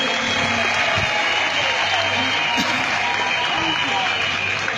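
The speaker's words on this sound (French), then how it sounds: "Applaudissez Dobo Blé" Dense crowd applause at a political rally in Anono, loud and continuous clapping mixed with a busy crowd din that holds at full level for several seconds.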